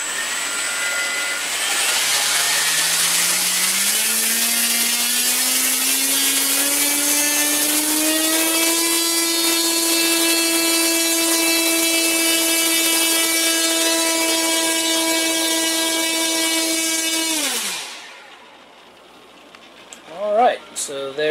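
Torque 820kv electric motor with a 12.6 propeller on a thrust test, spinning up in stepped whines to a loud, steady high-pitched drone that holds for several seconds before cutting off and winding down, followed by light handling noise.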